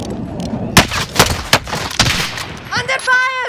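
Gunfire in the video game Call of Duty: Modern Warfare rings out as a run of loud, sharp shots at irregular intervals, followed by a brief rapid burst and chirpy game effects near the end.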